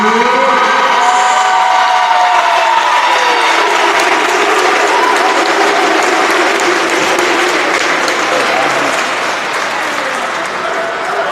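Sustained applause and some cheering from a swimming conference championship crowd honour a women's swimmer of the meet, loud and steady throughout, with a faint announcer's voice underneath.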